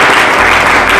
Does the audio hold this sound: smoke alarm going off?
no